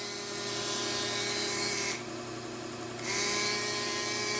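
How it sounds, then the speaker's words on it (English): Dremel rotary tool grinding a serrated Cutco knife, a steady high-pitched whine heard close up, dipping briefly in the middle before resuming at full speed. "this Dremel tool spins a little fast"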